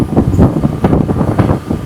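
Strong wind buffets the microphone on a fast speedboat ride, a steady loud rushing roar with gusty pulses and a low engine-like rumble beneath.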